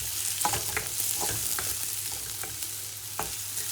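Chopped medium onion sautéing in a pan for prawn curry, a steady close sizzle broken by the scrape and knock of stirring, with no talking.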